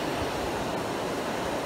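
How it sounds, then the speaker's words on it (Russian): Water rushes through the opened dam gates on the Enz river between Neuenbürg and Pforzheim, a steady, loud, broadband roar that stays level throughout with no voices. "Открыли они. Спускают воду."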